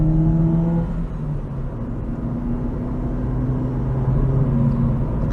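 A PT Cruiser driving on a Welsh road with snow about, steady engine drone and low road rumble heard from inside the cabin, continuous and fairly loud with no voices.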